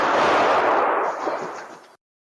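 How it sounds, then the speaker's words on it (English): Gunfire at a shopping mall food court during a shooting, heard as a loud harsh burst of shots that blurs into a dense crackling roar for about two seconds before cutting off abruptly. "New video shows the moments people ran to escape gunfire."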